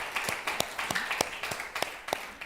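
Church congregation at a Sunday service clapping along in a steady rhythm, a brief run of even claps at moderate distance with some room echo.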